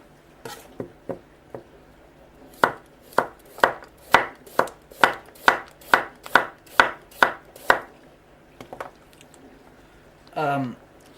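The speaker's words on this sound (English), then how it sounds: "it just doesn't crack your carrot. It makes a nice smooth cut." A flat ground kitchen knife cuts through a carrot in a quick series of about a dozen crisp, evenly spaced chops on a board, close and clear, after a few lighter taps, with no talking.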